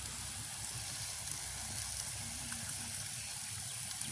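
Village chicken eggs boil in a pot of water, making a faint, steady bubbling hiss that continues evenly with no voices.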